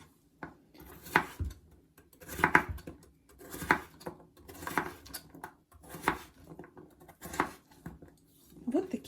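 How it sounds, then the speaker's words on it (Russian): Potatoes are chopped into small cubes for a honey mushroom soup: a steady series of knife knocks against a cutting board, roughly one every second or so, close and fairly quiet, with no talking. "Берем картофель и нарезаем на маленькие кусочки"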